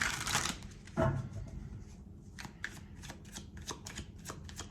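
Tarot cards are shuffled up close, a loud riffle at first, then a run of quick, evenly spaced card flicks and slaps with no voice over them.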